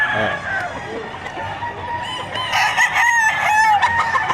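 Several roosters crow over each other amid clucking and a busy crowd murmur at the Padre Garcia livestock auction market in Batangas, with people talking nearby.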